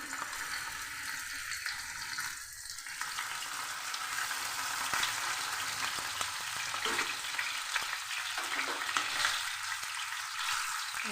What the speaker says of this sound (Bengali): মাছ উল্টে পাল্টে লাল করে ভেজে নেব